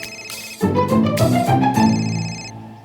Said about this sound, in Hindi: रोज इसी टाइम फोन करके मुझे डिस्टर्ब करते हैं।